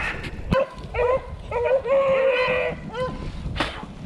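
Hunting dogs bark and yip on a rabbit hunt opening day at a wildlife management area, several quick barks coming near and loud in bursts, with excited human voices talking over them outdoors.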